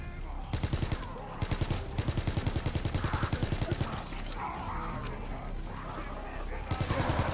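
Rapid automatic gunfire in a WWII zombies video game mode, delivered in several quick bursts of closely spaced shots separated by short pauses, with quieter game sounds between them.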